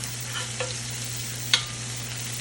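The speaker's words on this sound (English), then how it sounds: "So now you're just trying to cook down your onions and your garlic." Onions and garlic cooking down in oil in a cast iron pan give off a faint, steady sizzle under a low electrical hum, broken by a couple of brief utensil clicks.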